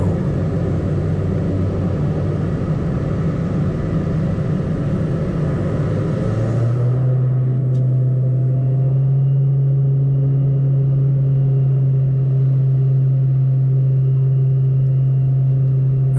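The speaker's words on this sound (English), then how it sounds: "We're now turning onto the runway, ready for our takeoff roll." A Dornier 228 twin-turboprop roars loudly at full power on the runway, then the engine note settles into a steady, lower droning hum, heard from inside the cabin.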